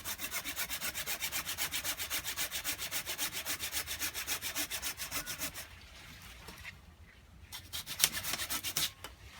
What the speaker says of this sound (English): We're going to actually remove this branch. So I'm cutting just about a 1/4 inch right above the bud.